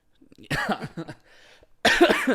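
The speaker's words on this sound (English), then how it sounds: "I'm still coughing." A few short, hoarse coughs up close, separated by brief pauses, with a quick burst of harsh coughing near the end.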